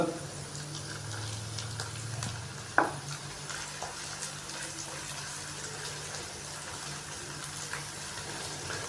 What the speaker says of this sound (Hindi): हल्का सा अदरक और लहसुन के पेस्ट को हम रोस्ट कर लेंगे